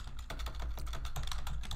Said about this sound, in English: I always screw up the typing of that